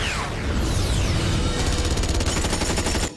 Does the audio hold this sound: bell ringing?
no